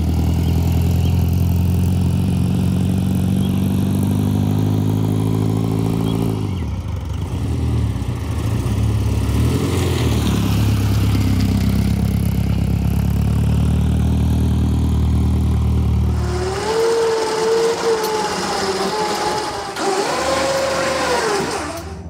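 A Shorrock-supercharged Austin-Healey Sprite with a hard top pulls away, its engine a loud, steady drone that rises and shifts pitch through the gears, then settles into a higher, fading whine.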